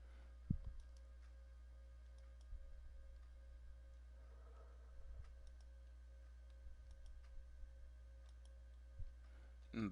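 Mouse clicks on a computer while confirming OK in an Active Directory security dialog: a few sparse, soft single clicks, close but faint, over a quiet steady hum.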